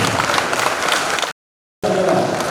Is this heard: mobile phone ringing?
no